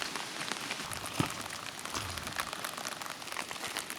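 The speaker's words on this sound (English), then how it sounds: "Here comes the rain again." Rain falls steadily during a thunderstorm over a creek watershed, a constant dense patter on surfaces with a few sharper drop hits, close and continuous with no voices.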